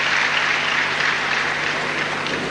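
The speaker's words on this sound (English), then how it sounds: "generous applause" Steady, generous applause from a crowd at a 2001 world weightlifting championship, 105 kg snatch session, filling the hall evenly without a break.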